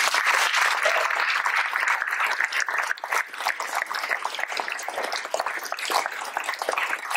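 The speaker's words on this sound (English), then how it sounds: "I think you guys deserve a big round of applause" An audience at a mental health panel discussion gives a big round of applause, a sustained dense clapping that carries on steadily for several seconds.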